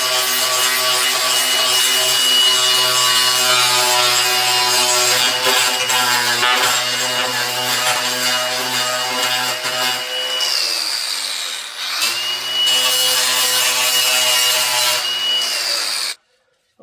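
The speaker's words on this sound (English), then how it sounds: "I'm gonna go ahead and start sanding this down. Got my grinder here." An angle grinder sands down a plastic car bumper repair with a steady, close, droning whine. The pitch holds evenly, dips briefly near the end and then resumes before cutting off. No one speaks.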